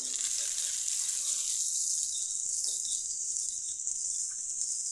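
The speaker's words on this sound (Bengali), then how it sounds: "এখন পেঁয়াজ কুচিগুলোকে আর আদা কুচি খুব ভালোভাবে ভেজে নিয়েছি" Chopped onion and ginger fry in a pan with steady, bright hissing sizzle throughout, close and loud, with a few faint utensil clicks and no speech.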